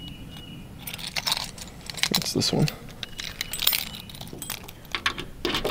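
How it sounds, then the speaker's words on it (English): A large bunch of keys jangles and clinks close by in bursts as different keys are tried in the lock of a rear emergency door on a school bus, with a person speaking briefly. "I got a lot of keys."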